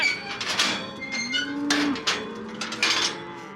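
Cattle in a trailer give deep, drawn-out moos one after another, set against clattering knocks and thumps as the animals shift inside.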